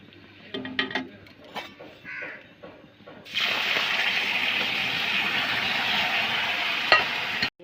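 Raw mango pieces with sugar and green chillies frying in a pan: a few light clicks of stirring, then a sudden loud, steady sizzle that carries on close up to the end.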